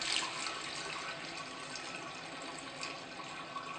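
Tap water running steadily into a jar of sprouts to rinse them, a continuous close hiss and splash of filling water lasting the whole stretch with no talk.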